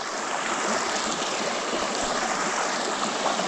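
Loud, continuous rushing of a Carpathian mountain river flowing close by, a dense broadband wash of water with no pauses.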